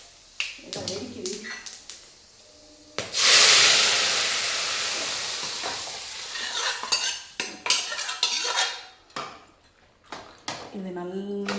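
Fennel seeds and spices crackle and sizzle loudly in hot oil, with a burst of frying and stirring clatter, while a person talks over it in Tamil.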